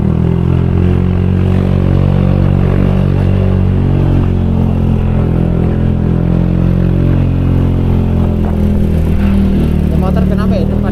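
A motorcycle touring on the steep Puncak Dua road toward Cianjur strains uphill, its engine a loud, continuous, low revving drone with a voice talking over it throughout.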